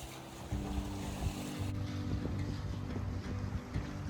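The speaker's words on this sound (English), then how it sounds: "we're sailing dead downwind. The wind's dropped off a bit." A sailboat runs dead downwind in light wind of about ten knots, with steady wind buffeting and water rushing along the hull, a low continuous wash with small surges, no voices.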